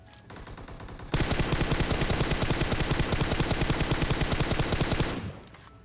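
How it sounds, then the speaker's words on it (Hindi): Automatic gunfire in the video game PUBG Mobile: a continuous rapid burst of machine-gun shots lasting about four seconds, loud and close, starting abruptly after a quieter lead-in and cutting off near the end. "इतनी देर में गाइस लेफ्ट पे ना फायरिंग होने लग जाती है"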